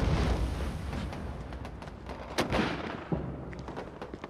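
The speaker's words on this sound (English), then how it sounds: "I expect this mortar fire to stop shortly, sir." Mortar fire in a war drama: a continuous low rumble of distant explosions with a sharper blast in the middle and scattered crackling impacts, all at moderate loudness with no speech.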